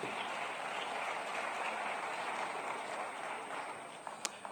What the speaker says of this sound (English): let's give them another round of applause as they step off the stage